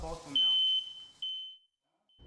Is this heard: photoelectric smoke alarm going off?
yes